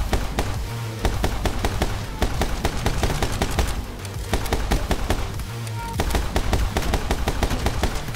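Uzi gunfire in the video game My Friend Pedro: rapid, sustained automatic bursts of sharp shots with brief gaps, loud and close over a game soundtrack.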